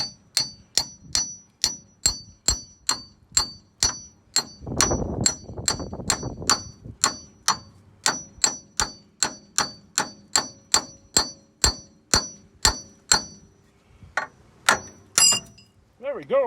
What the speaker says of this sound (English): I'm using a claw hammer.